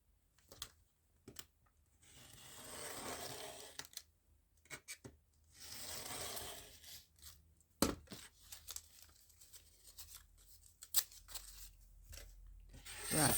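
Faint snipping, rustling and tearing as a paper bag is cut through, heard in several quiet close-up stretches with soft pauses between strokes.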